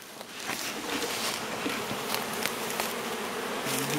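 Dense buzzing of a honeybee swarm, many bees droning close by in a continuous, slightly fluttering hum with occasional nearer passes.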